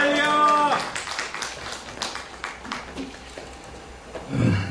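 A church congregation at a revival pastors' training gathering greets an arriving preacher with scattered, lively clapping. A raised voice is heard at the start, and another voice comes in near the end.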